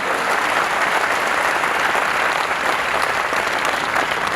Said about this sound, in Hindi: तालियां बजाकर महामहिम राष्ट्रपति महोदय का अभिनंदन किया जाए